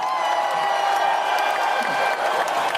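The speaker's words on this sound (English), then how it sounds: "Do I have my applause button here?" Canned applause and cheering played from a soundboard button during a live online dating show, a steady crowd roar with scattered whoops, even in level and slightly thin in tone.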